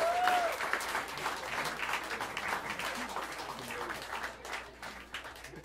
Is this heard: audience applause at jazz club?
yes